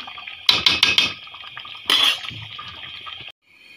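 A metal spoon clatters against a pan while broiler chicken and potatoes are stir-fried, giving a quick burst of four scraping knocks, a pause, then one more longer scrape before the kitchen goes quiet.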